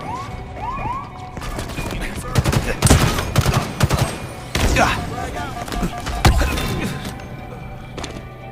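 Bursts of gunfire fill a Halo Infinite match, with rapid shots and heavy impacts over constant game noise, sirens and explosions, while in-game voice announcements play.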